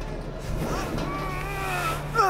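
A plane-engine-like monster roars in the video game Resident Evil Village, a steady droning rumble with rising, whining engine tones, loud and close throughout, with a player's voice briefly over it.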